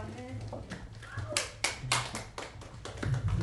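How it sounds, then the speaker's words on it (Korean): A church congregation at a Sunday service claps together in a series of sharp, fairly loud beats at a steady rhythm, with brief voices at the start and underneath. "박수 한번 치십시다."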